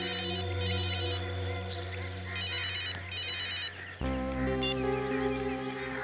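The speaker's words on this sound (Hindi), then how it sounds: "वो दोनों मेरा फोन कॉल रिसीव क्यों नहीं कर रहे हैं।" A telephone ringtone chimes in repeated bursts, loud and close, ringing on with no one picking up.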